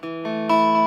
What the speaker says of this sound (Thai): ตัดซิงเกิลคอยเสียงจะออกใสๆนะครับ